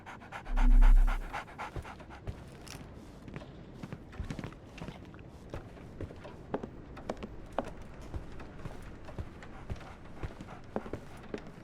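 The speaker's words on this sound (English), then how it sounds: "So, Barnes has a dog now" Dog panting in Sherlock Holmes: The Awakened, set in London: a steady, quiet, quick rhythm of breathy pants with faint footstep-like taps, after a brief low thump near the start.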